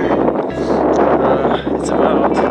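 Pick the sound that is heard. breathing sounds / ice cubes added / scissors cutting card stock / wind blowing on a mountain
wind blowing on a mountain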